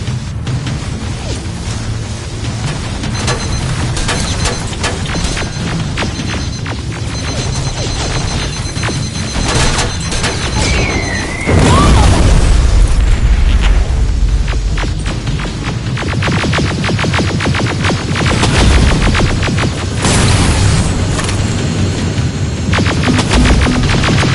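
Grenade blasts and gunfire in the Terminator Resistance video game, a dense, loud battle din with a heavy booming explosion near the midpoint and further crashing impacts and rumble that carry on throughout.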